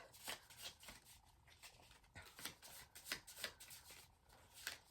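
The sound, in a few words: shuffling a deck of cards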